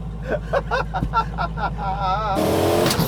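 A boosted Datsun-based Rotsun engine revs hard under excited shouting voices, rising and fluttering, then bursts into a loud, rough, full-throttle roar up close.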